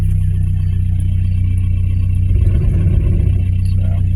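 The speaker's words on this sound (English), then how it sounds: "here it's idling a little bit higher than I'd be happy with" A 1986 Nissan 720 truck's carbureted engine idles high with a steady, close, loud hum and a faint rhythmic flutter, with no voices.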